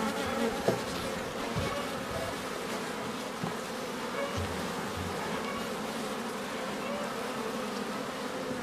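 Honeybees at an open hive in an apiery drone in a dense, continuous buzz close to the ear, steady throughout with a few brief louder passes of individual bees.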